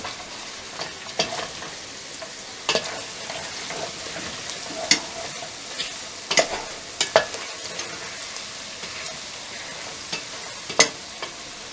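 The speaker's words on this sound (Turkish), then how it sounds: "Salçasını koyup iyice karıştırdıktan sonra şimdi baharatlarını ve tuzunu koyacağım" A spoon stirs meat stew with tomato paste and spices in a pot over a soft, continuous sizzle, with scattered sharp clinks and scrapes against the pan at close range.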